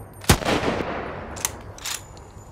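Gunfire in the zombie survival video game Undead City: one sharp shot up close, then a couple of fainter, shorter bursts, with low background game ambience and no talking.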